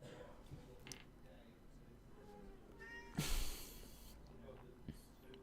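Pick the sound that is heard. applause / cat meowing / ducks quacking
cat meowing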